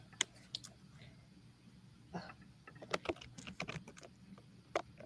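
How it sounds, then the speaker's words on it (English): Loud typing on a computer keyboard during an evening reading session, sparse irregular clacks and short bursts of keystrokes close by in a quiet room. "Sorry if you guys hear my loud typing."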